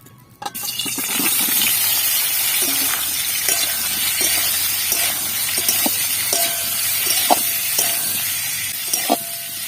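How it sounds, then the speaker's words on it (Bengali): Loud, continuous sizzling as potatoes hit hot oil and keep frying, with scattered clicks and scrapes from the pan, close and without talk. "এবার আমি আলুটাকে ভেজে নেব"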